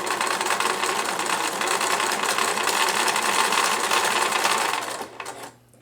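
A sewing machine stitches a zipper onto a reusable fabric bag, giving a steady, fast, close mechanical whir for about five seconds before slowing and stopping.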